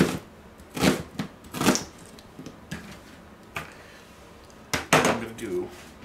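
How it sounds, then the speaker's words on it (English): A knife cuts an onion into strips on a cutting board, giving sharp, separate chops spaced unevenly, some close together and others after longer pauses, with faint background noise in between. "the way I'm going to chop this onion is I'm just going to, again, make strips"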